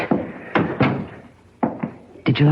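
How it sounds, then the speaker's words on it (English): Radio drama sound effects of a door being shut: several loud wooden thuds and clunks in quick clusters, close and dry, with short quiet gaps between them. "Come in and shut the door."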